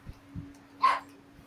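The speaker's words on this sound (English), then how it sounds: "Sorry about the dog in the background" A single short bark rings out at moderate distance, with faint thumps before it in an otherwise quiet room.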